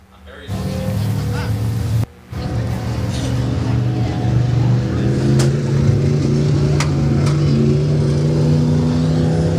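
Late model race car rolling into victory lane at a dirt raceway in Osborn, Missouri, its engine a steady loud rumble that rises slightly, with crowd noise and chatter around it.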